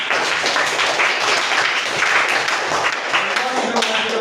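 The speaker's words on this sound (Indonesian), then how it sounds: "tepuk tangan untuk Iqbal" Applause from a classroom or school audience for a student named Iqbal, a dense steady patter of clapping filling the whole stretch with some voices mixed in.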